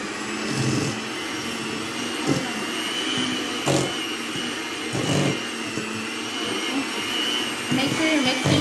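A hand mixer on low speed beating cream cheese, a continuous whirring motor hum with small bumps as it works through the bowl, steady and close throughout.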